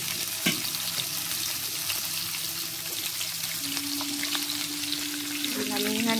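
Garlic sautéing in a pan for ginisang bagoong, a close, steady sizzle and crackle running throughout, with a sharp clink early on and a faint voice near the end.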